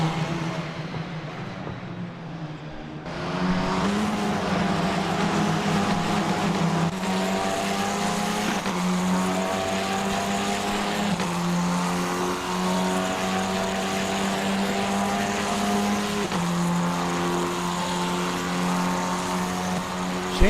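Formula 4 race cars race on track, a sustained loud, high engine whine with shifting pitch as the pack passes. A quieter opening gives way to a constant roar.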